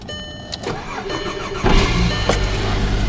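A car engine cold-starting in freezing weather, one of a 2007 Volkswagen Rabbit 5-speed manual, 1994 Saturn SL2 or 1971 Volkswagen Beetle: a close crank catches and settles into a loud, steady idle with a rough low rumble.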